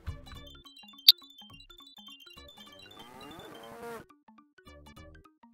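Cow moos from the Sega Genesis game Barney's Hide and Seek Game, a synthesized chiptune lowing about a second long sounding over bouncy game music with a sharp blip near the start.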